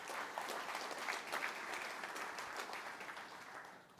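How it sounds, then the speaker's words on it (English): A room full of people gives a round of applause, a faint, dense and steady patter of clapping that tapers slightly toward the end, with no voices over it. "that achievement deserves a round of applause from everyone in the room today."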